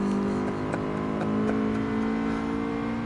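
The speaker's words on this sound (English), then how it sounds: "the sound of the engine here, it's amazing" A race car engine drones steadily in Gran Turismo Sport, holding a loud, even tone throughout with slight pulsing and no talk.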